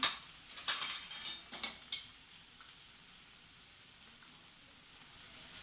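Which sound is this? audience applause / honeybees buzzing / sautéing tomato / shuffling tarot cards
sautéing tomato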